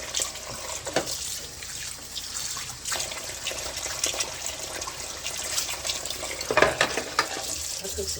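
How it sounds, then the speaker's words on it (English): Tap water runs steadily while dishes are rinsed, with some clinks and a brief louder splash of handling near the end, before washing with homemade dishwashing powder. "so I'm about to rinse that out first."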